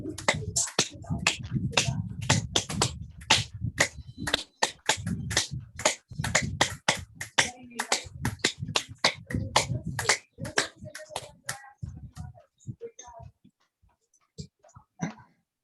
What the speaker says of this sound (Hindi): पहले हम थोड़ा सा आपस में ताली बजा करके एक दूसरे को